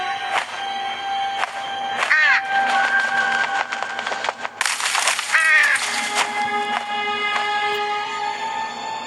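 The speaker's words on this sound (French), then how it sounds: "Et il a un corbeau là." Crow cawing in the horror video game True Fear, repeated harsh caws spread across the stretch over eerie ambient tones, with a voice talking.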